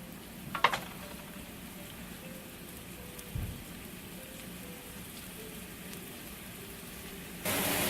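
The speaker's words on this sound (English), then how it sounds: "I can even hear it sizzling." Onions sizzling as they fry in a pan for a shrimp curry, a steady faint crackle running underneath with a couple of sharper pops near the start and a brief low knock midway.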